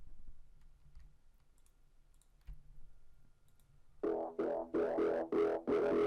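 Synth lead run through Camel Crusher distortion, a near-silent stretch with faint low rumble before loud, gritty, buzzy distorted notes hit in a choppy rhythmic pattern of repeated bursts.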